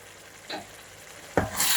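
Mushroom curry simmering in a pan after garam masala and coriander go in, a soft background sizzle broken by two brief stirring scrapes, the second sharper, then a brighter hiss swelling at the end.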